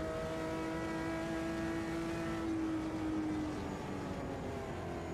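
A 1999 Omega Brazilian stock car in Automobilista 2 drones steadily with a held engine tone that rises and shifts midway, a continuous loud in-cabin sim racing engine with no talking.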